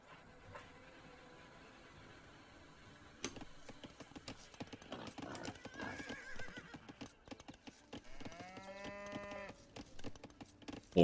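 A horse neighs in a strategy video game, a short whinny rising out of a soft background of game clatter and clicks, with no talk.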